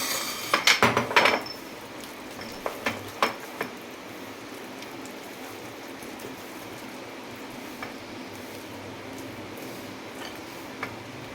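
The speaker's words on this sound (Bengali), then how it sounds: "আর একটু গোটা ধনিয়া এটা দিয়ে আমি একটু জাস্ট মিক্সড করে নেবো" A spoon mixing whole coriander seeds into food clatters in a quick cluster of metallic scrapes and taps at the start, then a few sparse clinks before mostly quiet background.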